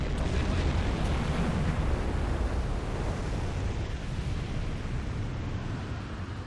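A torpedo strikes a tanker in the submarine game Silent Hunter 5, producing a continuous roaring, rumbling explosion that fills the whole stretch loudly and evenly, slowly tapering near the end, with no talk.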